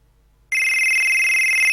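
After half a second of near silence, a custom ringtone on an Android phone starts abruptly and keeps ringing as a steady, loud electronic tone with no pause.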